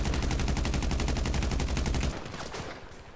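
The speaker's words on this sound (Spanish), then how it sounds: "¡Me disparan!" Rapid automatic gunfire in a GTA roleplay game, a loud sustained burst of evenly spaced shots that cuts off after about two seconds, leaving quieter scattered shots and game noise.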